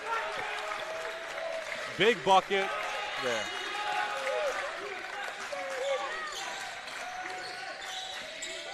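Crowd cheering and applauding at a youth basketball game, DME PG Black against Coastal Prep, a short burst of clapping and shouts under an excited announcer's voice, with squeaking sneakers and a bouncing ball.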